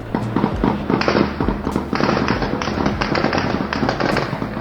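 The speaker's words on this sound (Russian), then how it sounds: "В Кабуле раздавалась стрельба и громыхали фейерверки" Dense, rapid bursts of fireworks exploding in Kabul amid celebratory gunfire, a continuous crackle of pops and booms at close to medium range with occasional heavier thuds.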